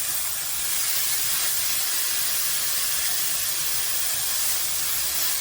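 Beef patties and onions sizzling on a hot griddle while making an In-N-Out style Flying Dutchman burger: a steady, loud, broadband hiss that holds unbroken throughout, with no talking.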